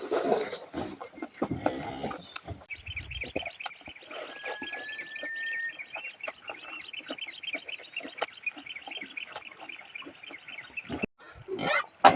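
Hungry farm pigs call over a busy mix of bird chirps and tweets, with a steady dense chatter of high calls through most of the stretch and louder grunting bursts near the start and end.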